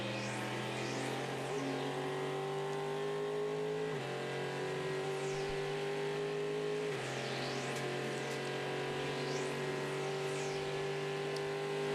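A race car passes on track during the 2015 Twelve Hours of Sebring. Its engine drones steadily at high revs with shifts in pitch as gears change, and faint passing whooshes of other cars sit in the background.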